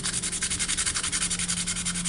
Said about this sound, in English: I get some 220 grit sandpaper, and I'll just sand down, or sand and smoothen out